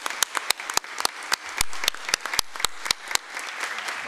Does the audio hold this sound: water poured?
no